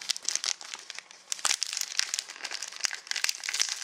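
Close, crisp crinkling of a plastic bag packaging a silver chain, handled in steady bursts of rustling and crackle with brief pauses, no one speaking.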